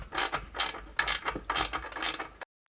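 A compact hand ratchet tool with a bending head clicks in four quick bursts of rapid pawl ticks, close and crisp, before cutting off abruptly to silence.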